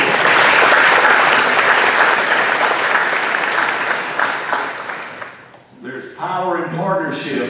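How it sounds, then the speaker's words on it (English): Loud, dense audience applause fills a Chamber of Commerce legislative luncheon for most of the stretch, then fades and gives way to a speaker's voice at the end. "let's give all of these people who worked hard a round of applause, please."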